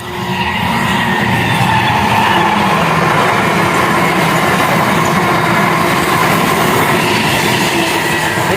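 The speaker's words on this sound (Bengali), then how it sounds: "আরেকটা ট্রেন চলে গেল মেমু ট্রেন মেমু ট্রেন তো মেমু ট্রেন লোকাল ট্রেন" A MEMU local train rumbling past at the site of a derailment, a loud continuous roar of wheels and carriages that holds steady for the whole stretch with no voices.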